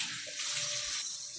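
Running tap water flowing in a home kitchen while bread dough is being made, heard as a loud, continuous hiss of water close by with no talk over it.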